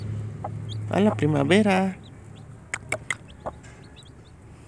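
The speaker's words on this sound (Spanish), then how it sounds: "Esos son los 4 nuevos pollitos que hay." Hens and newly hatched chicks cluck and peep nearby, with a short run of throaty clucks followed by a few sharp cheeps, while a person speaks briefly.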